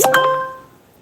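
A short, bright chime from a mobile phone notification rings out once with a quick double-tone attack and fades within a second, heard close in a quiet room where clay is being crafted.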